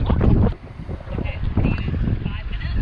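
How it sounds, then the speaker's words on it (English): Strong wind buffets the microphone outdoors on a family fishing trip, a loud rushing roar with gusts that dip briefly and then build again, heard alone without talk. "it's super blowy though"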